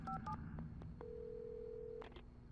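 A quick run of electronic phone keypad tones from a payphone-style call in the video game Alan Wake, a few short beeps, then one long steady tone and a final burst of beeps, fairly close and clear.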